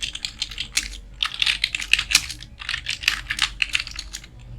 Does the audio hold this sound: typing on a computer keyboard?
yes